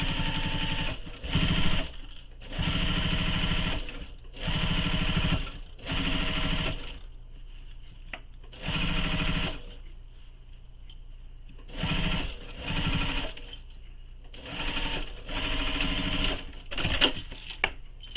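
A sewing machine stitches a seam on a Danbury tote bag, running in repeated bursts of steady rapid whirring separated by short pauses, close and alone.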